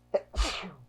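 Someone lets out a single quick, close sneeze, a short inhale followed by a sharp burst, with no talking around it.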